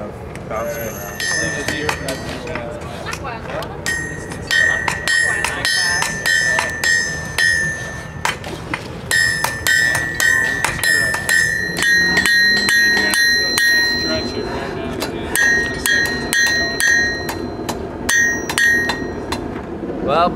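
A hammer strikes flat steel on an anvil while forging a knife, giving a rapid series of loud, ringing metallic blows in bursts with brief pauses between them.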